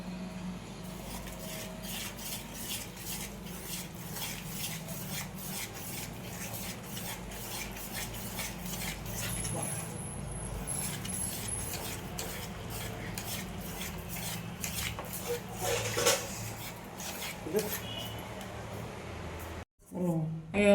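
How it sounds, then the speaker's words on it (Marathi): A spoon scrapes and stirs in a bowl as biscuit powder is mixed into cake batter, a steady rasping of utensil on the dish under a voice talking in Marathi, with a brief pause near the end. "आपण इथं बिस्किटांची पावडर केली होती ती आता मिक्स करून घेऊया."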